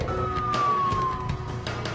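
A police siren wails in a long, slowly falling tone over the rumble of traffic, growing fainter toward the end.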